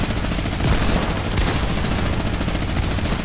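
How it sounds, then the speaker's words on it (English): Rapid, relentless automatic fire from a minigun in the video game Fortnite, a dense unbroken stream of shots that stays loud and close for the whole stretch. "Boy, I love playing with my minigun."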